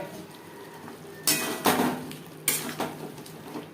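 Potatoes are mixed into spices in a pan, with a spoon scraping and knocking against the metal in a few loud bursts over quiet background.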